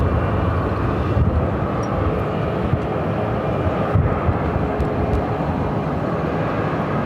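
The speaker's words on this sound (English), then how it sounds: "It's Frontier Flight 4183 coming in from Houston on an A320-200." A Frontier Airbus A320-200 arriving from Houston comes in to land at Phoenix, its broad, steady engine roar filling the whole stretch at close range with no pauses.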